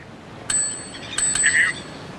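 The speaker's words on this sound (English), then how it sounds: "Just ring the bloody bell if you hear anything useful." A desk bell in the video game Not For Broadcast rings twice in quick succession, bright and close, its metallic tone ringing briefly before fading.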